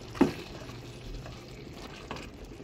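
Chicken afritada cooks in a pan with a soft steady sizzle of frying, a single stirring clank near the start and another faint one later.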